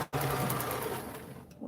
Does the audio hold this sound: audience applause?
no